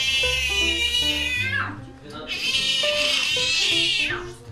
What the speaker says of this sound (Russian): Возмущается, мяукает и ходит, где вздумается.